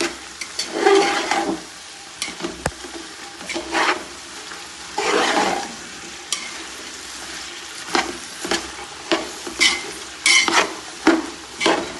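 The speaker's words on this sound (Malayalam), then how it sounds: "നന്നായി ഒന്ന് നമുക്ക് ഇളക്കാം നല്ല എള്ളെണ്ണയിൽ നല്ല മണം വരുന്നുണ്ട്" Garlic, ginger and green chillies fry in sesame oil for a Kerala-style garlic pickle. A close, steady sizzle is broken by bursts of spatula stirring and scraping against the pan, which grow more frequent toward the end.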